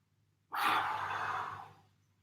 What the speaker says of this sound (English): Good, big deep breaths.